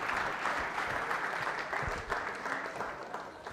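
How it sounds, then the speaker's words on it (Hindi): A quiz show audience at Manipal University claps loudly and steadily, an even wash of applause with no break for several seconds. "शिवाली के लिए तालियां जोरों से बजाइए, जोरदार तालियां बजाइए"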